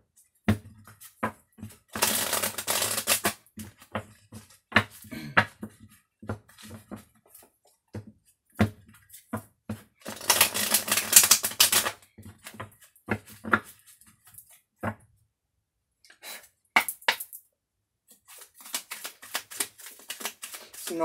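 A deck of tarot cards is shuffled in quick, papery riffling bursts, separated by quieter taps and soft clicks as individual cards are handled and laid down.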